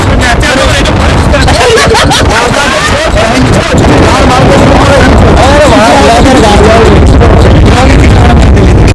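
Wind rushes loudly and steadily through the open sunroof of a moving luxury car, a constant broadband roar with voices murmuring underneath it.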